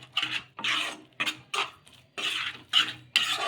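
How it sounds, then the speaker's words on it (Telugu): Semolina being stirred into boiling water for a rava puri breakfast dough, heard as repeated scraping, rasping strokes of a utensil against the pot in short bursts with brief pauses, close and fairly quiet, with no talking. "ఇలా ఈ విధంగా బాగా కలిసేలాగా కలిపేసుకొని"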